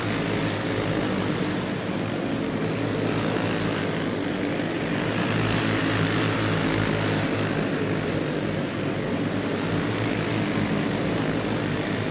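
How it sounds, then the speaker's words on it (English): Racing karts in a Proclone 350 race on a speedway, their small engines blending into a loud, continuous droning roar with steady, dense buzz and no clear gaps between passes. "They're still racing it out here in the final sets of laps here in this Proclone 350 race."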